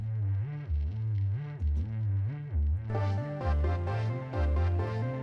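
A distorted, crackling sine-wave synth bass pulses in a steady rhythm with gliding pitch, loud and up front, with brighter synth layers joining partway through.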